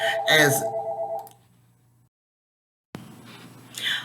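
A telephone rings indoors during a daily Bible study talk. Its electronic tone sounds briefly and cuts off to silence, followed by faint room noise and a short vocal sound.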